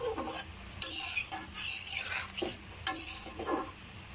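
A spoon stirs ghee and garam masala through a vegetarian potol (pointed gourd) dish in a pan, with soft scraping strokes, faint sizzling and metal clinks, close by and fairly quiet.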